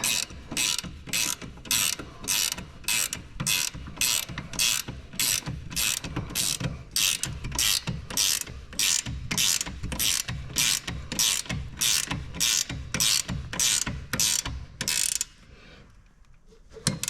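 A hand ratchet tightens bolts on a six-piston Brembo brake caliper of a big brake kit on a Z31 300ZX, giving about two dozen regular, close clicking strokes before it stops, followed by quiet and a final knock.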